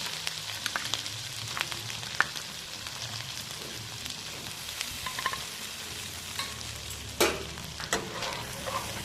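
Spices sauté with cashew and melon-seed paste and a little salt in a pan for paneer butter masala, a soft continuous sizzle broken by scattered spoon scrapes and taps, with one sharper clatter near the end.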